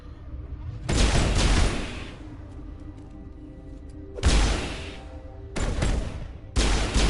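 Heavy shotgun blasts in the Mass Effect video game, a loud sustained burst followed by several shorter booming volleys with brief gaps between them.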